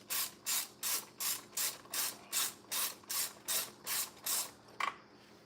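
Hand ratchet cranking down head gasket bolts on an engine during a head gasket replacement: about a dozen even, rhythmic bursts of clicking pawl strokes, close and fairly quiet, ending with a couple of sharp metallic taps.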